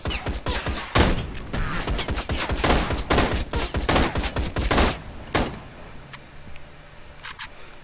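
Rapid volleys of gunfire in the motorcycle action game Ride to Hell: Retribution, loud sharp bursts packed densely for about five seconds, then thinning to sparse distant shots over a quieter background.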